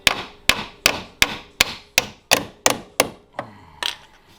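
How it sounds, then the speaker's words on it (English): A hammer strikes a part during a Lambo door install on a Nissan S14 240SX, landing about ten sharp, evenly spaced metallic blows close by with short ringing decays and no talking. "Pliers are not going to work for that, so we're going to grab a hammer"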